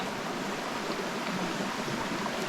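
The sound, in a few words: flowing stream water near a waterfall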